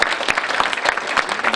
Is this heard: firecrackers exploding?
no